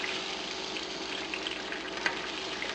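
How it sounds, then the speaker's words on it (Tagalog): Shrimp sizzling and frying steadily in a pan for shrimp scampi, a close, continuous crackling hiss with a faint tap near the end. "At lulutuin lang natin yung shrimps for a few minutes."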